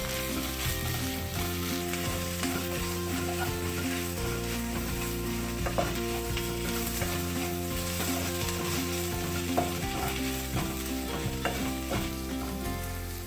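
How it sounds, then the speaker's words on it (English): Red chili powder and coriander powder masala sautéing in a pan over medium-high heat, a steady loud sizzle with repeated scraping stir strokes throughout, no talking. "1 teaspoon of red chili powder, 1 tablespoon of coriander powder, and saute it well"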